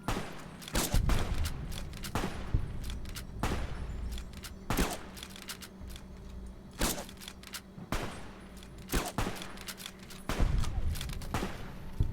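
Submachine gun fire in the video game Fallout New Vegas comes as short rapid bursts recurring every second or so across the stretch, punchy and fairly loud, with no talking.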